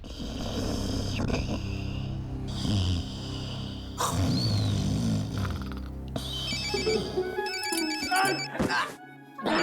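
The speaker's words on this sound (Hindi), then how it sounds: "अबे पंकज, तेरा फोन बज रहा है।" A mobile phone ringtone plays loudly, a patterned electronic melody that shifts and repeats amid rustling noise and background sounds.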